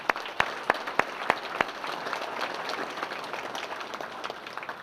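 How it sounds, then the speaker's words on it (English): A banquet audience at a sports hall of fame enshrinement applauds, mixed claps thickening into a steady wash of clapping, heard from within a moderately sized room. "Can I give them a round of applause?"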